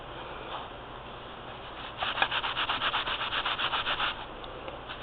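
Blue chalk powder being rubbed into fabric for patchwork placemats, a close, steady run of quick scratchy strokes lasting a couple of seconds before stopping, with no talking.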